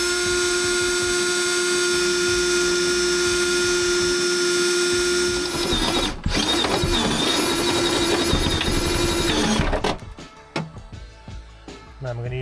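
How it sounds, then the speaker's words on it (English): A power drill with a step drill bit whines steadily up close for several seconds, pitch shifting as it bites into material in a Transit camper van, then stops, leaving clattering handling noises. "Got a step drill."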